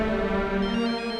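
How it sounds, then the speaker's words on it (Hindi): A short burst of a tonal, melodic phone ringtone, sustained and fairly loud, with no talking. "इसका फोन आ गया।"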